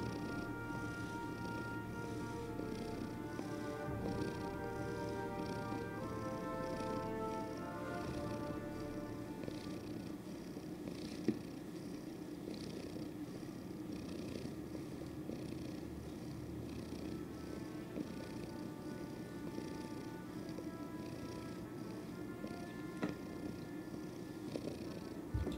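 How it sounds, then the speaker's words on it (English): A contented cat named Misty purrs softly while sitting on a lap, a faint, steady low rumble that continues throughout under quiet game music. "Some nice peaceful cat sounds. Happy cat sat on my lap."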